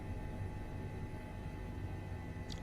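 An Airbus H145 helicopter in Microsoft Flight Simulator hovers in place during a hoist operation, giving a steady, low, even engine and rotor drone that stays constant throughout.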